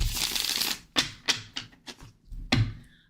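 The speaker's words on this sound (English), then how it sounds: "Let's shuffle real good, shall we? And then we'll shuffle some more." Tarot cards are shuffled by hand at a reading, first a riffling burst, then a series of sharp, close slaps and taps in an uneven rhythm.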